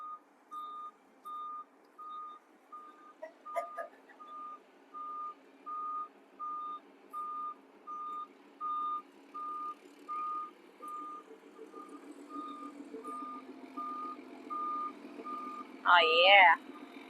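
A truck backs up to deliver gravel, its backup alarm beeping in a steady, regular rhythm over a low engine rumble, with a short louder burst of noise near the end.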